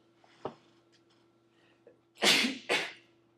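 A single sharp sneeze bursts out in a quiet lecture room, a short intake followed by two quick explosive bursts, preceded by faint small noises.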